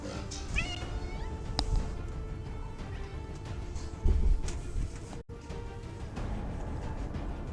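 A cat meows a few times in quick bursts, fairly close, with a thump or crash partway through and low background noise running throughout.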